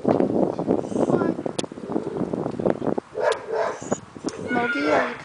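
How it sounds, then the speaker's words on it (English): Neighbour's dog barking and yipping next door, several short barks and whimpers at mid distance, mixed with someone talking to pets over a breezy outdoor background. "She's got quite a bark."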